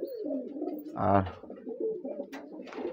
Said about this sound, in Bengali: এটা ব্লু শার্টিংয়ের মেল পায়রা